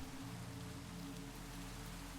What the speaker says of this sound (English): Whoa, today it's actually raining.